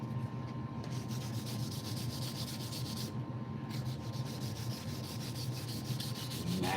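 Steady, continuous sanding of a sapele wood sheath with fine 400 grit sandpaper, a close, even rubbing hiss with a faint rhythmic stroke pattern and no talking.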